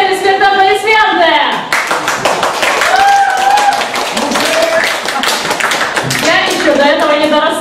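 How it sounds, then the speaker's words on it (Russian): Rock concert audience at a memorial jam claps in a dense, fast patter of hands that swells and holds for several seconds, with voices and cheering mixed in. "Отдельный респект на аплодисменты!"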